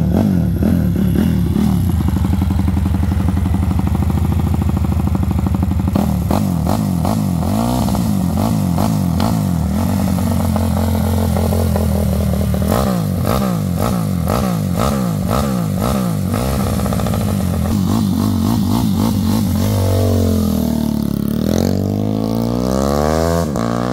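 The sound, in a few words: motorcycle engine started and revving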